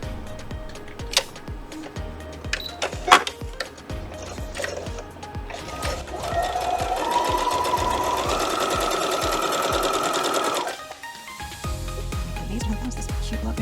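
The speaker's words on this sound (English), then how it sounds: "Flip this over and sew it. We're going to sew the short side." A sewing machine stitching fabric quilt pieces along a short side runs steadily for several seconds, a close, even mechanical whir that follows some handling clicks and then stops abruptly.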